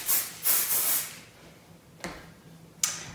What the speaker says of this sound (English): I'm just going to spray the ponytail and make sure there's no areas that are straight